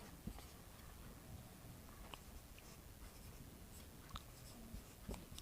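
Chalk taps and scratches faintly on a board during a Class 10 coordinate geometry lesson, short irregular strokes against a hissy, quiet room background.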